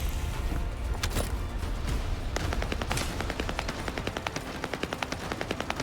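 A hand cannon fires in the shooter game The First Descendant: sharp, moderately quiet shots that grow into a fast, regular string of cracks toward the end, with no voices.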